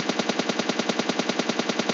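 Rapid automatic gunfire in the mobile shooter PUBG Mobile Lite, about ten evenly spaced shots per second, loud and steady, with no voices.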